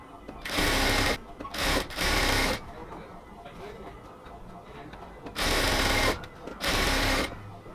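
Sewing machine stitching along the elastic waistband of a cotton salwar, four loud bursts of rapid stitching separated by pauses, with a voice speaking in between.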